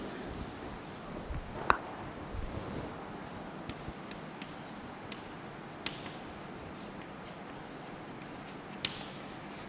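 A chemistry equation is written out by hand, with faint pen scratches and occasional small taps on the writing surface, quiet against a soft background hiss.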